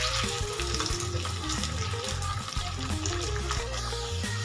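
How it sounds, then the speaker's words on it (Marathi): Sabudana vada deep-frying in hot oil in a kadai over medium gas, a loud, steady crackling sizzle that runs the whole time with no voices over it. "कुरकुरीत होईपर्यंत आणि कलर चेंज होईपर्यंत तळून घ्यायचे"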